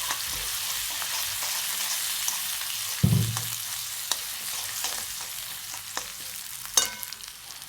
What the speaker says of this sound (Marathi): ते चांगलं परतून घ्यायचं